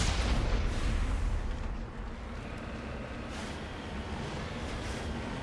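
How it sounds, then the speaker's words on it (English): The Mako's grenade launcher in Mass Effect gives a heavy, booming blast that rumbles low and loud at first, then fades into a sustained engine-like drone with faint later thumps. "And a grenade launcher."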